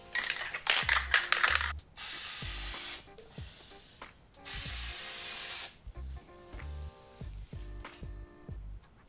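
Spray can laying a coat of Plasti Dip on car emblems: two sustained hissing bursts of about two seconds each, with handling clicks and knocks between them.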